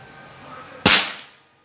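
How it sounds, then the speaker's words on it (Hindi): A single sharp air rifle shot from a Gamo GM10 firing a pellet, loud and close, with a sudden crack that decays over about half a second out of a quiet background. "So this is the last final shot, Sam हटो।"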